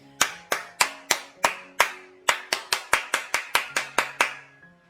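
Single sharp hand claps, loud and close, used to test an Arduino microphone double-clap switch: about fifteen distinct claps in an uneven rhythm, some spaced apart and others in quick runs, ringing briefly in a small room.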